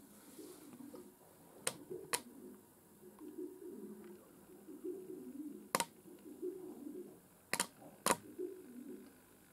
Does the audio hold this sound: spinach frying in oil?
no